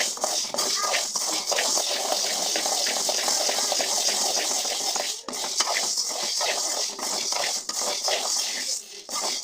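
Wheat dry-roasting in a pan for a sathu maavu health-mix powder crackles and pops densely, along with a continuous rustling shuffle as it is stirred, fairly close and loud throughout.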